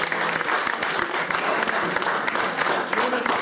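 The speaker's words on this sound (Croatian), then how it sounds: "I još jedan aplauz" A large audience claps steadily and densely for a children's choir that won first place at a national choir competition, celebrated at the opening of a literary gathering in Prokuplje. The applause holds at an even level from start to finish.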